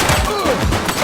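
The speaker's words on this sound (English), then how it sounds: "He's shooting!" Gunfire from a police shooter on PS5, The Precinct: a dense, loud burst of rapid shots packed into a single second, with no pause.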